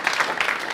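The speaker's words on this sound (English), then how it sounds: "I would like to ask for a round of applause for the third place" Brief applause from a conference audience at the Orchard Harvest Conference, rendered as a short, steady wash of scattered hand claps at moderate level with no talk over it.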